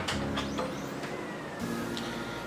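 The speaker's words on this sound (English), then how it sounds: "I'm hitting the power button of the printer" A Brother MFC laser printer powers on after a toner change, with mechanical whirring, clicks and clunks from its internal motors starting up in short bursts close by.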